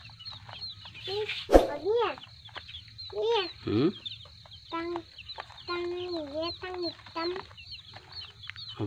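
Young Bangkok chickens, a group of seventeen feeding, cluck and peep in short rising and falling calls, near and fairly loud, with a low steady hum beneath.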